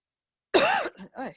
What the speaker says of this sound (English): getting a little cough there